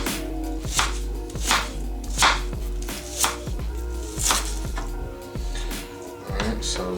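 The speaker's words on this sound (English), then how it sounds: "I'm gonna go ahead and cut this in half and just basically roughly" A knife roughly chops green onion on a cutting board in a steady run of about eight firm, close thuds, heard over a sustained musical backing.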